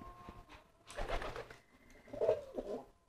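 Male pigeon cooing in courtship toward a female, a few soft throaty coos rising and falling close by, with short pauses between calls and no talking.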